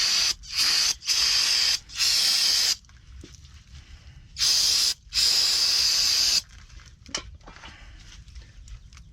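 Aerosol brake cleaner sprays from a nearly empty can during trailer work: loud hissing blasts, two short bursts then a long one, a pause, then another short and a long spray, each cut off sharply, with quiet shop background between.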